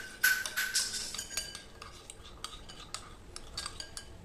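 A spoon stirs a yeast mixture in a bowl, opening with a cluster of bright metallic scrapes and clinks that then thin out into lighter, spaced taps, close by.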